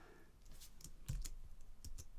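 Keys tapped on a computer keyboard, including the tab key, during basic software use: a run of several light, irregular clicks at close range with no talking.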